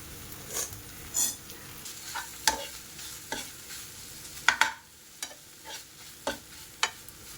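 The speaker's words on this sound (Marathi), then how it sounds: "आता ही डायरेक्टली आपण ह्याच्यात टाकायचं आणि याला एक मिक्स करून घेऊ." A spoon stirs soybean keema masala paste into hot oil in a pan. About a dozen separate scraping strokes come at an uneven pace over a soft, steady sizzle, close and with no talking.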